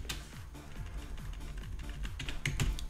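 Steady clicking of fingers typing on a computer keyboard, close and fairly quiet, with an even run of keystrokes and a few sharper taps near the end.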